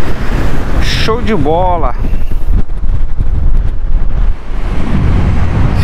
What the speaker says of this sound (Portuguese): Infelizmente o drone aqui sem chance, tem muito vento.